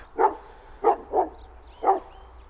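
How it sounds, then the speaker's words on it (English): A dog on a hiking trail in Portugal barks four times in short, sharp bursts, the middle two close together, fairly near with quiet background between. "look at that dog."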